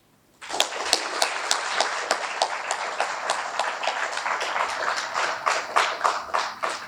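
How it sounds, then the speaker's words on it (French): Applause from an audience honoring staff colleagues, starting abruptly and continuing steadily with distinct individual claps standing out through the dense clapping, moderately close. "je vais demander des acclamations pour mes collègues"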